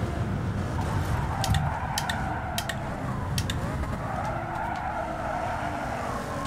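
Race cars roar around the track in a Gran Turismo 7 Gr.4 or Gr.3 online race at Daytona Road or Lake Maggiore: continuous loud engine drone with repeated short tire squeals, no talking.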